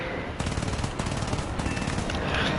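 Aircraft machine guns hammer out sustained bursts of gunfire during a War Thunder dogfight, loud and dense, running through almost the whole stretch with brief gaps between rapid volleys.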